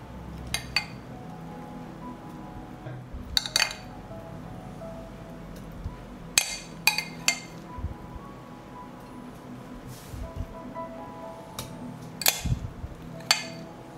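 Glass jars clink as minced vegetables are spooned into each one, with scattered sharp chinks and light taps spaced a few seconds apart over a quiet kitchen background.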